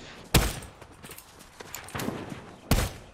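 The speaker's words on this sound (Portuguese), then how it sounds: "Passou um tiro do meu lado" Gunshots in the Fortnite video game during a sniper fight: two sharp, loud cracks about two seconds apart, with quieter shuffling and footstep-like game sounds between them.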